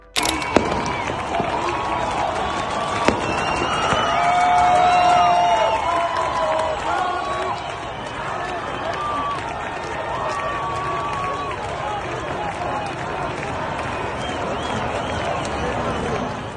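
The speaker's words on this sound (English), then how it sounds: "clapping, chanting Iran, and banging on pots as unrest spreads across the city" Protesters in Tehran's squares clap, chant and bang on pots during anti-government unrest, a dense steady crowd roar with rhythmic voices and clatter sustained throughout, swelling slightly midway.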